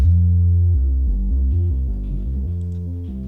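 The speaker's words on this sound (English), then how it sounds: "And let's start with a bass that sounds like this." Deep synth bass patch from a DRC synthesizer, a loud throbbing low line of short repeated notes stepping through a simple pattern.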